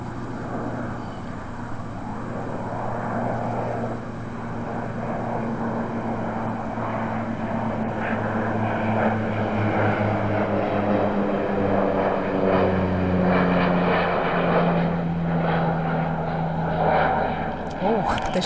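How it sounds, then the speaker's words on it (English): Propeller airplane passing overhead above a golf course during a women's amateur championship putt, a steady droning engine hum holding through the whole stretch under faint crowd and course ambience. "The shadow of that plane goes right over as she putts."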